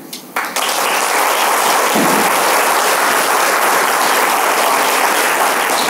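An audience at a closing panel of the Académie Centraide applauds, a sudden onset swelling into broad, sustained, even clapping from a large crowd, loud and continuous to the end.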